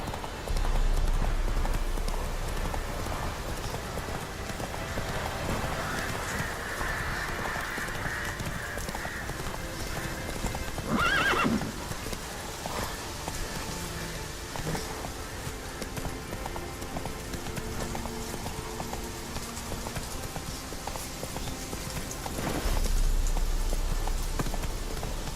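Roach, a horse in a video game, gallops with a steady clip-clop of hooves over a continuous rain-like wash, with a brief whinny-like accent midway and a louder swell near the end.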